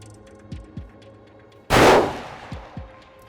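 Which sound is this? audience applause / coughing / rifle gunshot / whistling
rifle gunshot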